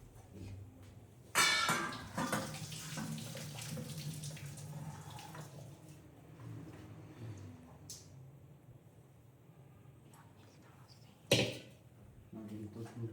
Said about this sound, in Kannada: ಇದನ್ನು ನೀರು ಬಸ್ಕೊಂಡ್ಬಿಡ್ತೀನಿ.